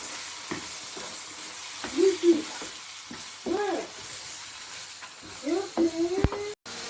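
Soaked chana dal fries in oil in a pot and is stirred, giving a steady low sizzle broken by scraping stirs and clicks, while a person talks over it in short bursts.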